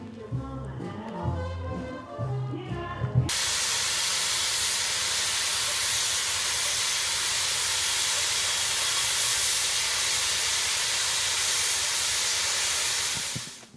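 A steam locomotive at a jazz festival lets out a loud, continuous hiss of steam that runs for about ten seconds, after a short stretch of music and voices at the start, then cuts off.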